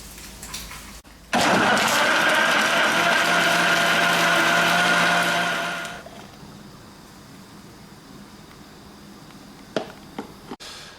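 A blender roars for about five seconds at steady high speed, whirring frozen banana, yam, nuts and low-fat milk into a juice, then stops abruptly. Quiet room sound and a few faint clicks follow.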